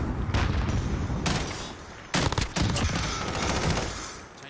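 Rapid automatic RAM rifle fire in Call of Duty: Modern Warfare, sustained loud bursts across the whole stretch with a sharper, harder volley partway through and no pauses.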